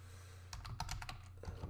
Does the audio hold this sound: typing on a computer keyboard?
yes